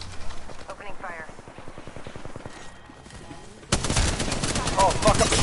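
A shooter video game fires off a rapid, evenly spaced burst of gunshots, then louder, denser shooting bursts in; a voice speaks briefly over the early shots.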